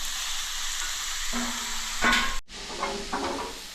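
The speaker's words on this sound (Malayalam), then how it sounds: "അപ്പം സവാളയാണ് അതിരിക്കുന്നത് അത് നമുക്ക് നന്നായിട്ട് വഴറ്റിയെടുക്കാം" Onions sautéing in a pan for a beef and rib curry make a steady close sizzle, with a few scraping stirs of a utensil partway through.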